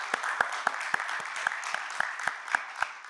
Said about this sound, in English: Let's give both teams a well-deserved round of applause